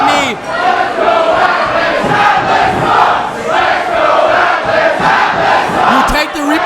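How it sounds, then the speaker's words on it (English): Loud, roaring wrestling crowd at a Toronto show, cheering and yelling continuously and densely throughout, with chant-like swells and shouts rising near the end. "Listen to this crowd. The crowd is absolutely on fire here."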